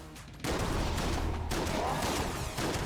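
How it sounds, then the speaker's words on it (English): A sudden, dense burst of Winchester rifle gunfire from the video game Enter the Gungeon starts after a short quiet moment, then rolls on as a loud, sustained barrage with overlapping shots and effects. "I don't want to use the Glacier for this. I think I want to use the"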